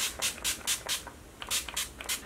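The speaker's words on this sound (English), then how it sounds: "I think I might just do one layer of setting spray before I finish up." Makeup setting spray misted onto a face in a series of quick hissing bursts, about eight short pumps in two uneven groups, close and crisp, with no talking.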